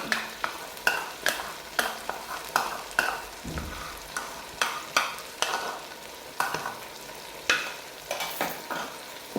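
Spoon scraping and stirring chicken karahi in a pan after Nestle cream has been added, repeated sharp clanks and scrapes in an irregular rhythm over a low sizzle of frying, close up with no voices.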